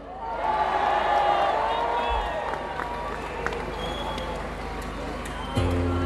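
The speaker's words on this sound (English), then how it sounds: "could we have a huge cheer for Ringo?" Large concert crowd at an outdoor festival cheering and applauding for the drummer Ringo, a continuous roar of clapping and shouts at moderate distance, with a voice over a PA system speaking at the start.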